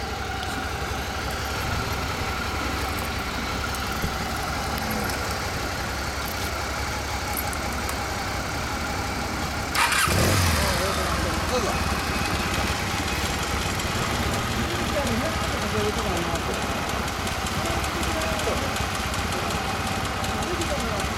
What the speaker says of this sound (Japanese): エンジン音聞かせて